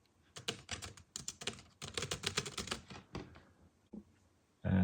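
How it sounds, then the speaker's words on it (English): Fast, crisp key clicks in bursts on a Palm Portable Keyboard connected through a Bluetooth adapter, close and clear with short pauses between runs of typing. "you can already start typing"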